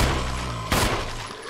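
Gunfire from the Resident Evil video game, a loud, dense burst of shots up close followed by a second sharp report partway through, with the echo trailing off.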